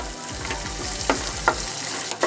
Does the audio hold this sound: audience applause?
no